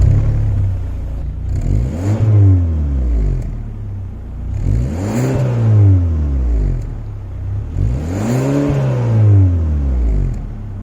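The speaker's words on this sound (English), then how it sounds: "I'll also put in a clip of the exhaust notes" Exhaust note of a 2021 Hyundai Sonata N Line, loud and close, rising and falling through three strong revving sweeps with a deep rumble between them.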